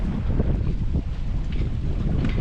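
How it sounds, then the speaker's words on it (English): Sailboat running along the west coast of Guadeloupe with the wind behind, steady rushing wind and water noise buffeting the microphone with no voices. "we are on the west coast of Guadeloupe. Still sailing along."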